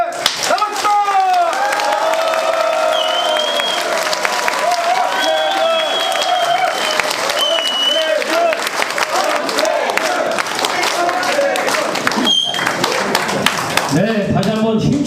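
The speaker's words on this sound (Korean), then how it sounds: "네, 다시 한번 힘찬 응원의 박수," A crowd at a political rally claps and cheers, a dense sustained wash of applause with scattered shouts, running under amplified speech and music throughout.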